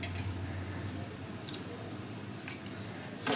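A little water is poured into a cup of yogurt masala while making drumstick dum biryani, a soft, faint liquid trickle and squish in a quiet kitchen that ends with a slightly louder splash.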